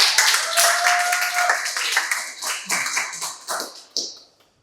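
An audience at a vocational school event breaks into applause, a dense burst of many hands clapping that fades out over a few seconds.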